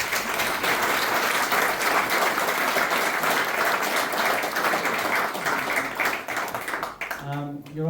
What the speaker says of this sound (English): please give a round of applause to Stephen